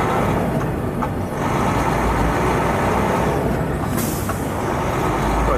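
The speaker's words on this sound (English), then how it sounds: "Now here's what my engine sounds when I'm changing gears from stop." Heavy haul truck engine pulling away from a stop and shifting up through the gears on a highway, a steady loud low rumble heard from inside the cab with a brief change in tone partway through.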